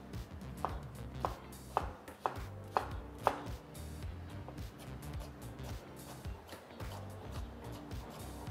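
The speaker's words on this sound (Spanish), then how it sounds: "Hacemos unos cortes pequeños, igual que el mango, para que todo sea homogéneo." Knife chopping vegetables into small pieces on a board for vegan ceviche, a run of sharp regular taps early on, then softer steadier cutting continuing over low background hum.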